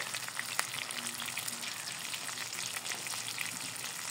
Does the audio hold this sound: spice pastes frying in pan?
yes